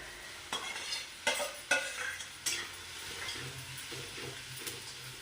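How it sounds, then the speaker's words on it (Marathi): Beetroot bhaji being stirred in a frying pan, a spoon scraping through the sizzling vegetables in several distinct strokes over a steady close frying hiss, with no talking. "बीट टाकून छान हलवून घ्यायचं"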